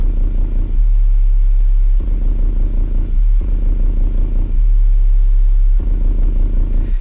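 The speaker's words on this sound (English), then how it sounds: "It's essentially a very deep rumbling that I made using a well, actually my friend made it, but it's just like a bunch of 808s" A deep, heavy rumble built from layered 808 bass plays as a loop that keeps cutting out and restarting. It comes in loud, steady bursts of about a second, separated by short abrupt breaks, with no voices.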